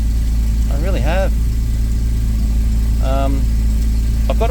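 A car engine idles steadily at a low rumble just after starting, with a person talking over it in short bursts.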